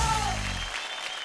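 A studio audience claps for a stage performance on a children's dance show. A voice tails off at the start, then steady, moderately loud clapping from many hands fills the rest of the moment.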